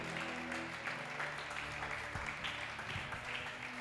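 A congregation at a Sunday church service applauds steadily, a continuous wash of clapping mixed with a low sustained musical tone underneath, moderately loud and unbroken throughout.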